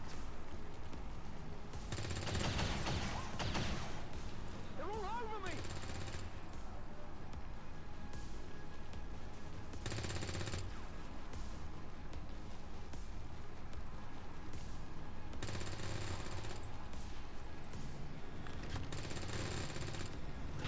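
Suppressing fire in the turn-based game XCOM 2 against a purifier: four loud bursts of rapid gunfire, each lasting about a second or two, separated by a steady background game ambience.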